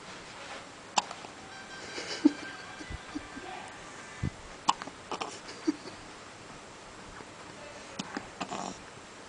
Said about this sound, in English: We've got the hickety hiccups